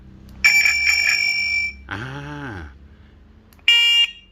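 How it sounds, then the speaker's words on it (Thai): A loud Dahon electronic bicycle horn blares a bright buzzing tone, then a brief descending warble, then another sharp blast, close and piercing. "แต่ฮาฮอนเนี่ยเสียงดังเลยอ่ะเดี๋ยวฟังนะ"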